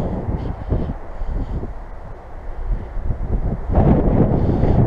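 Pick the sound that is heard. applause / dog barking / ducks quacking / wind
wind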